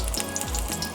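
A chile relleno coated in egg batter fries in oil over medium heat, giving a close, steady hiss and crackle that lasts through the brief moment with no voice.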